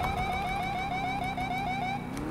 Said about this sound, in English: You got sirens.